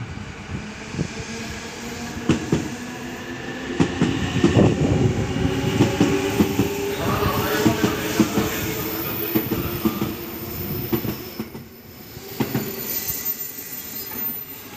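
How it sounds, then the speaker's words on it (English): Chiba service train pulling into a platform at Hodogaya, Japan, with loud rumbling wheels, clattering over rail joints and high squeals from the brakes and wheels as it slows. No one speaks. "Chiba service arriving into platform 1."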